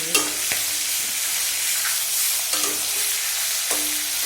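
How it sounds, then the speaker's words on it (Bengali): Fish frying in hot oil gives off a steady, close sizzle and crackle throughout, with several sharp pops and spatters standing out, and no voices present. "প্রচন্ড মাছের তেলটা ফুটছে"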